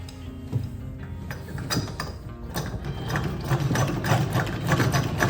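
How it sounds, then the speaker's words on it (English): A treadle sewing machine stitching fabric, its mechanism clattering in a quick, rhythmic ticking pattern with a whirring flywheel underneath, close and steady throughout. "You must simply lift the material up and sew over the thread that you have just sewn"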